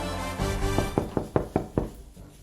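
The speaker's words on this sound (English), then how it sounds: "She walked up to the door and knocked." Five sharp, evenly spaced knocks land on a door at close range, following a soft shuffle and standing alone without speech.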